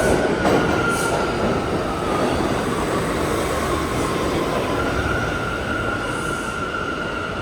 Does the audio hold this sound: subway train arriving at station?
yes